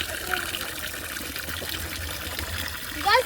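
Water trickles and splashes steadily into a pond nearby, a continuous gentle flow with faint voices in the background.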